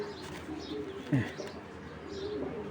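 Racing pigeons in a loft, one soft coo rising briefly near the middle over a faint steady hum and light chirps.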